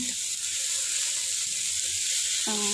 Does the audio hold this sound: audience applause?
no